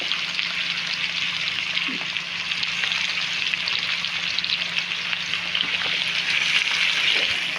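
Chicken feet sautéing in a pan over a stove, a steady broadband sizzle and crackle of frying that runs continuously and fairly close, with faint scraping of stirring and no talk.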